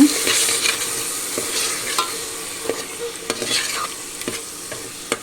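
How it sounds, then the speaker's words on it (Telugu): Mutton curry frying in oil is stirred with a spoon, producing steady scraping and clinking strokes over a continuous sizzle, close and fairly loud with no talking. "బాగా కలబెట్టుకోవాలి"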